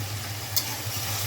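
Cumin powder hits a frying pan of fried tomato masala and sizzles softly and evenly up close for a moment, with a low hum in the background.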